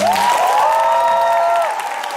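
Theatre audience applauding the cast after a final musical performance, a steady wash of clapping with some cheering under a sustained singing or tonal voice, close and moderately loud.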